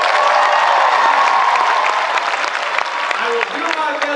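A graduation audience at the University of Phoenix Nashville campus claps loudly and continuously in a large room, the applause dense at first and tapering slightly toward the end.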